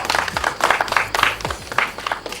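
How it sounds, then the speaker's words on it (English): A crowd in a movie scene applauds a woman's achievement, with dense, continuous clapping that fills the whole stretch at moderate loudness. "A round of applause for"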